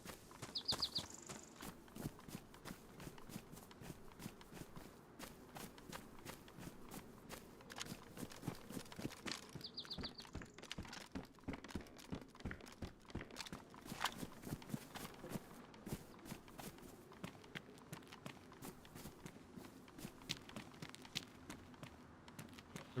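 Footsteps crunching steadily through the DayZ survival game world, a dense, continuous run of close, regular steps with a faint high chirp appearing twice, no talk.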